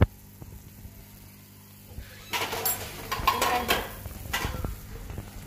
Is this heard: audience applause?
no